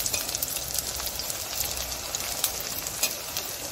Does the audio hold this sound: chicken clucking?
no